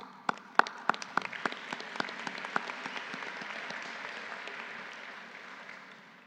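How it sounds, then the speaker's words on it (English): Audience applause at a university fall convocation: a room of scattered claps that builds into a steady, moderately distant patter before thinning out near the end. "Some of you are comfortable with applause when people are recognized."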